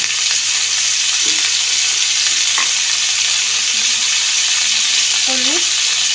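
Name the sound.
ridge gourd being stirred and fried in a pan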